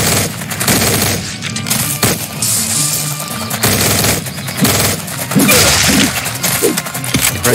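Machine gun fire in the audio game Blood Shed, loud rapid bursts of automatic shots repeating in quick volleys with brief gaps between them, close and dominant throughout.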